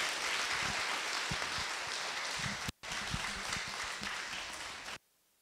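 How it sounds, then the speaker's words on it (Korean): A church congregation at a worship and testimony concert applauds to welcome a pastor, a steady dense wash of clapping that briefly drops out and then resumes before stopping abruptly. "큰 박수로 맞이해 주시면 감사하겠습니다"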